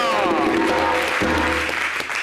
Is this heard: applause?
yes